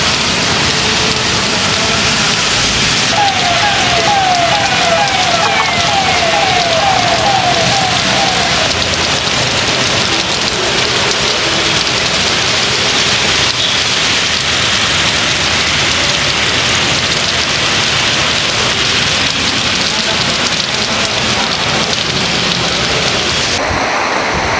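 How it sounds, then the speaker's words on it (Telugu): Heavy rain pours down over Hyderabad in a loud, unbroken roar that stays steady throughout, with a faint rumble of thunder beneath the downpour. "హైదరాబాద్ లో భారీ వర్షం కురుస్తూ ఉంది."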